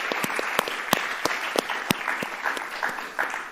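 An audience claps steadily for a few seconds at a civic gathering, a dense, even wash of applause with a few sharper individual claps standing out near the listener.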